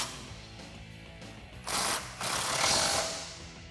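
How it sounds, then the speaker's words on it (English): Quick ratchet clicks tighten the factory top bolt with a 10mm socket while fitting a suspension lift kit to a Jeep Wrangler JK 4-door, two short close bursts of rapid metallic clicking in a quiet shop. "So then we can tighten up our top bolt from the factory with a 10mm"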